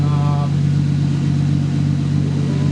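Turbocharged car engine running on ethanol, heard up close as a steady, deep, throaty drone that holds loud and even throughout, with no talk over it.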